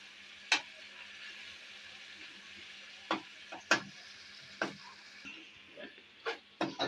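Garlic and ginger paste frying in a pan for a mutton karahi, with a steady quiet sizzle broken by several sharp spoon or stirring clicks at irregular intervals; nobody speaks.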